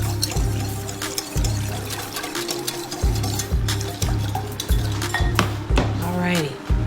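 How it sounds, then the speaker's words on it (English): Cornstarch and water being whisked in a bowl: brisk, evenly spaced clinks and scrapes of the whisk against the bowl repeat in a steady rhythm, close and clear. "So I have my cornstarch in the bowl. Whisk it up real nicely"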